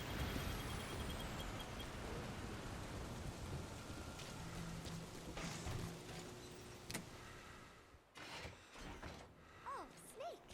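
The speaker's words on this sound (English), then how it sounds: "it was raining inside for a tick" Rain pours in Metal Gear Solid V: The Phantom Pain as a dense, steady hiss that fills most of the stretch, then cuts off abruptly, leaving a few quieter game sounds.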